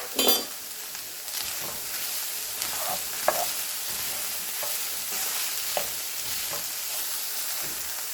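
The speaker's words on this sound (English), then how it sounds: "we're just going to let that cook" Mexican pizza filling frying and sizzling steadily in a pan, with a spoon stirring and scraping now and then and a light clink near the start, no voices.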